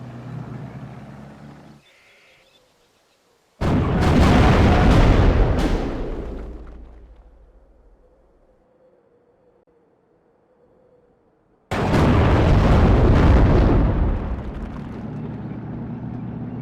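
Tank cannon fire and explosions in the World War II strategy game Steel Division: Normandy 44: two loud, heavy booming blasts several seconds apart, each rolling off into a long low rumble, with a quiet engine-like hum between them.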